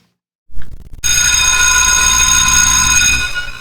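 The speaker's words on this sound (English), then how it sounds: "The bell rang as Romy and his friend Supreme made it to th" After a couple of brief knocks, a loud electric school bell rings continuously for several seconds with a harsh metallic tone, fading slightly at the end.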